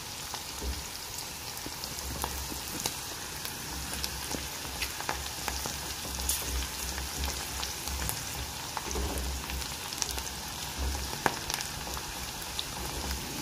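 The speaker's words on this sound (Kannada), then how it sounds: "ಸ್ವಲ್ಪ ಚೆನ್ನಾಗಿ ಫ್ರೈ ಆಗಬೇಕು" Tomato pickle frying in a pan, a steady, dense sizzle and crackle that runs on without pause, close and fairly loud, with no speech.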